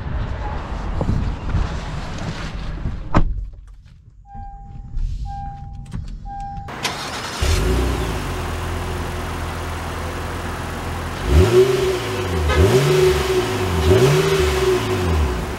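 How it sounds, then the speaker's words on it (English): A 2022 Honda Ridgeline HPD Black Edition pickup truck sets off, with a brief quiet cabin pause and a few soft electronic beeps before the engine hum steadies and then swells through several rising revs as it accelerates, close and fairly loud. "setting off in the Ridgeline HPD edition."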